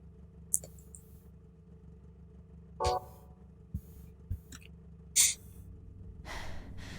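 A woman with asthma breathing heavily behind the player in the PS2 game Silent Hill 2, heard as several sharp, wheezy gasps and snorts spaced apart over a steady low game hum.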